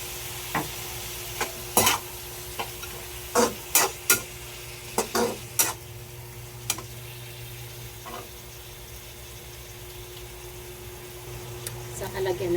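Pancit canton noodles are stir-fried with chicken liver just after soy sauce goes in. A steady, soft sizzle runs under a string of sharp spatula scrapes and knocks against the pan, which thin out toward the end.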